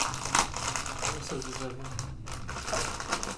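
Plastic packaging on a tied package crinkling and crackling as it is pulled open, close and steady under a person talking.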